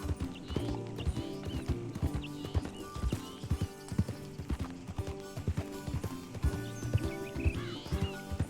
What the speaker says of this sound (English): Man riding a goddamn donkey.